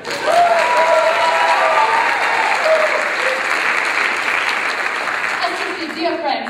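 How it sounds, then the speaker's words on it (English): A theatre audience gives loud, sustained applause during a stage musical performance of The Mystery of Edwin Drood, welcoming a performer and her son; a dense, steady wash of clapping with a voice speaking over it. "a warm round of applause for Miss Nikki Cricker and son"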